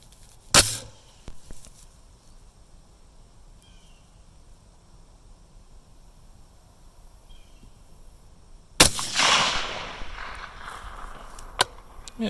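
Two sharp, loud rifle shots at steel targets ring out several seconds apart, the second followed by a lingering metallic tail, with near silence in between.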